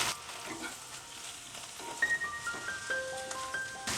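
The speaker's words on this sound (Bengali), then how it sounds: "এরমভাবে আস্তে আস্তে নেড়ে নেড়েই ভাজতে হবে, সমানেই নাড়তে হবে ঢ্যাঁড়সটা" Okra fries in hot oil while being slowly and constantly stirred, a soft steady sizzle with faint scraping touches, heard fairly quietly with no talking.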